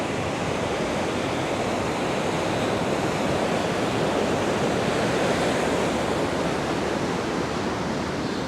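Steady roar of ocean surf rolling onto a beach in Da Nang, Vietnam, a continuous broad wash of breaking waves with wind, no voices.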